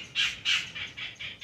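A bird at Negros Forest Park gives a rapid series of six harsh, squawking calls, the first two loudest, fading slightly through the quick sequence.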